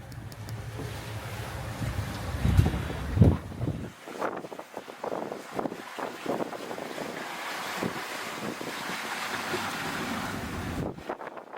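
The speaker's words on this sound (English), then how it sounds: "The camera will never truly do the seas and waves justice" Storm seas and strong wind batter a new aluminum sailing boat at sea, with a loud rush of waves and wind buffeting the microphone, a couple of heavy thuds early on and no talk.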